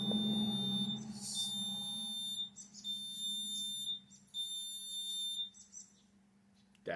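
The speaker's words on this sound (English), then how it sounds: "That's my alarm system saying something's coming down the driveway." A driveway alarm sensor beeps in repeated high-pitched bursts over a low hum, several pulses in a row with short gaps between them.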